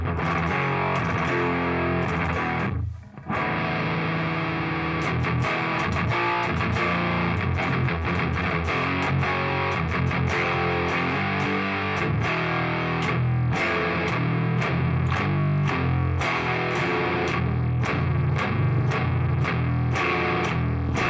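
An electric guitar plays thrash metal through a Quilter Labs Mini 101 solid-state amp head, with heavy distortion and fast palm-muted chugging riffs. The sound is loud and dense, with one brief dropout near the start.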